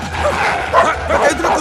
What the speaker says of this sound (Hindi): अब कुत्ती मेरे पीछे क्यों पड़ी है?